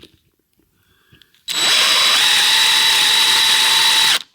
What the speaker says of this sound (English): then he's gonna counterbore the top of that